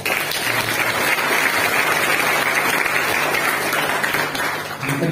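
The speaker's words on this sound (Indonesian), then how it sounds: "Tepuk tangan dulu untuk Pak." Audience applause at a pesantren (Islamic boarding school) event in Boalemo, a dense, steady clapping wash lasting the full clip with a faint low hum beneath.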